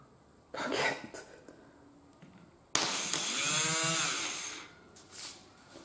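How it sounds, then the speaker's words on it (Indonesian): The starter dynamo of a Yamaha Mio scooter, bench-tested off a battery, whirs briefly in short bursts, then spins up into a loud sustained whine for about two seconds before winding down, heard up close. "Ternyata dinamonya nyala."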